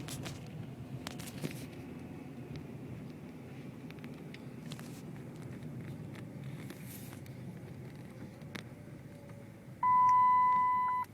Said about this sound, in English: So you can hear the seatbelt as it was just chiming there.